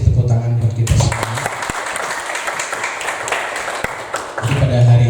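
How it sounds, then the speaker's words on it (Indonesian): Teachers and students at a school event break into a burst of applause lasting several seconds, with a speaker's voice briefly before and after the clapping. "tepuk tangan buat kita semua"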